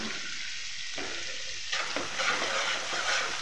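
Masala with Kashmiri chilli powder sizzles hard in oil in a pan for a village-style garlic prawn curry, a loud, continuous, close frying hiss that shifts slightly in texture partway through.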